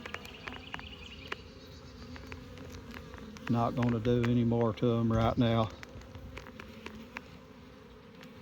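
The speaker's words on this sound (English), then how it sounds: "It's a good hive of bees here. Good and strong." Honey bees hum around an open hive in a steady, moderately faint buzz, with someone talking briefly over it in the middle.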